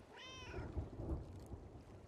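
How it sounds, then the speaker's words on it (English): A cat meows in the pirate game Sea of Thieves, a short rising mewing cry near the start, then low rumbling game ambience with thunder-like booms and rain over the rest. "There's your stupid cat"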